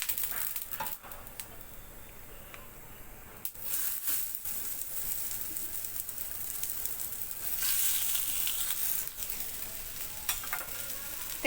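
A beetroot paratha sizzles in oil on a pan on a gas stove, a soft continuous frying hiss with faint clicks and scrapes of handling, close but fairly quiet.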